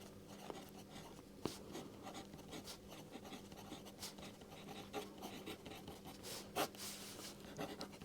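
Pen writing out an adjoint-matrix solution for a matrix inverse, a steady soft scratching and rubbing with occasional small taps, quiet and close, with no talking.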